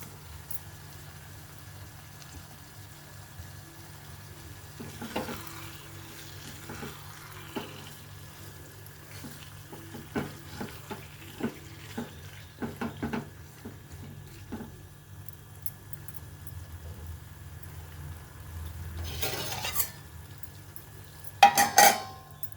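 Egg yolk frying in a pan for a Telugu-style egg fry, a low steady sizzle with scattered stirring and utensil clinks against the pan, one louder scrape near the end.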